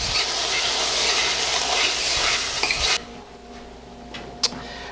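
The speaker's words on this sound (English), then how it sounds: "we're just going to stir that up and let that cook" A pot of white chili seasoned with salt and coarse ground pepper is stirred with a steady, close scraping swish for about three seconds, then the sound settles to a quieter simmer with a few faint clinks.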